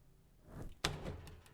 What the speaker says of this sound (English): She opened the oven door